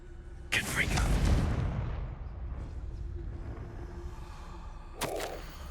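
A fiery blasting spell cast in the wizarding game Hogwarts Legacy: a sharp whooshing crack followed by a booming, rumbling burst that fades into a low sustained roar, with another sharp snap near the end.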